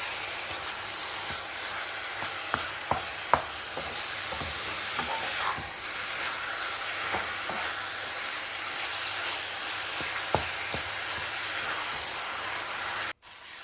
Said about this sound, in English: Thoroughly mix these ingredients and start cooking over medium heat.